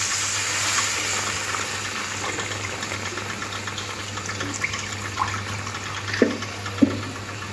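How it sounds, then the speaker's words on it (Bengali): Spiced water is poured into potatoes frying in a pan for a Bengali katla fish and potato curry, a steady close wash of pouring liquid over a sizzling hiss, with a couple of brief splashes near the end. "আরও একটু জল দেব।"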